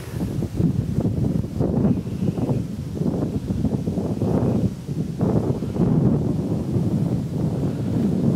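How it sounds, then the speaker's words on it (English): Strong gusty wind buffeting the microphone, a constant rumbling roar rising and falling in waves, loud and close throughout. "It's quite windy today."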